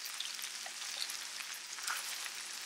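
Vegetables such as bell peppers, onions and spinach stir frying in olive oil in a pan, giving a steady close sizzle with faint crackles throughout and no talking.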